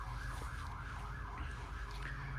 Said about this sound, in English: Excuse the sirens outside.